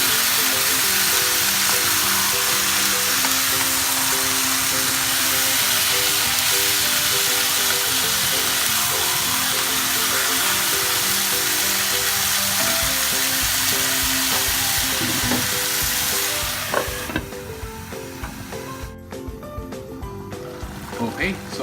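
Pork binagoongan bubbles in a pot with a steady, dense sizzle and simmer that holds for most of the stretch, then thins toward the end.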